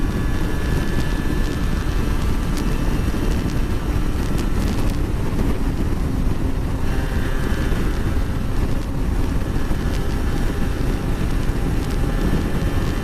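Yamaha TDR 125 two-stroke motorcycle with the throttle opened while riding, its engine note buzzing loud and continuous under heavy wind buffeting on the microphone.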